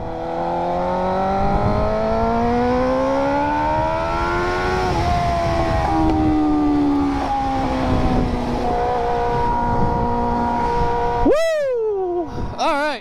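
Motorcycle with new frame sliders and weight reduction on a test ride, a loud close engine pulling through gears with rising and falling pitch, then a sharp rev burst near the end.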